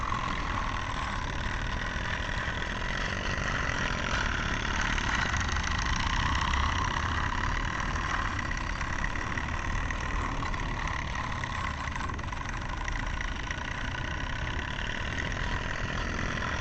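A plant engine at the PMR no 3 plant runs steadily and fairly loud, a dense continuous roar with no breaks and no voices.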